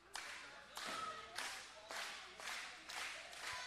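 Wrestling crowd at a women's pro wrestling match clapping in steady rhythmic bursts, about one clap every half second, fairly faint and distant.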